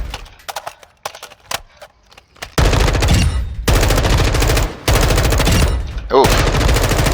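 M4 rifle gunfire in Modern Warfare 2, a few sparse single shots and then loud sustained automatic bursts broken by short pauses, with no talking.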